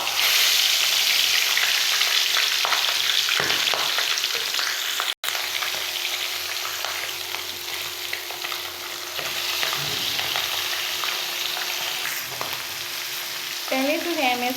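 Chicken leg pieces sizzle steadily in hot oil, a loud, continuous crackling frying sound that fills the whole stretch with no talking.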